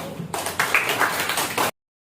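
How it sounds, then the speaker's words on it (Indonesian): Students in a junior high school classroom break into a short, dense burst of group clapping. It lasts well over a second and then cuts off abruptly into silence. "tepuk tangan buat kita semuanya"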